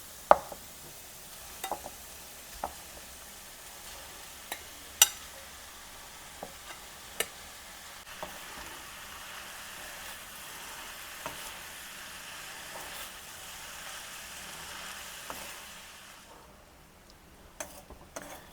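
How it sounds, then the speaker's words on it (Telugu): A spatula stirs rice with paneer and mushrooms in a frying pan, giving a faint, steady scraping and sizzle with scattered sharp clicks of utensil against the pan. "ఇప్పుడు రైస్ వేసుకొని బాగా మిక్స్ చేసుకుందాం"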